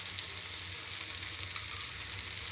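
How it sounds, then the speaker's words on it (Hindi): Onions, tomatoes and green chillies fry in a pan, making a steady, close hiss of sizzling oil that stays even throughout the short stretch, with no voices. "यहाँ हमारे प्याज, टमाटर और हरी मिर्ची फ्राई हो चुके हैं, अब हम इसमें मसाले डालेंगे"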